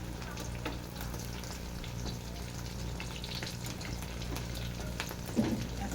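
Bread slices fry in a pan with oil, giving a soft, steady sizzle close by, with faint scraping stirs and a small clink near the end.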